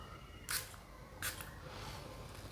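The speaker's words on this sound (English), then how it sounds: "If you press it down, it gives out a nice blast of juice, and it is loud." Two short, sharp hissing sprays from a Paco Rabanne 1 Million Parfum atomizer, close and fairly loud, spaced less than a second apart in a quiet room.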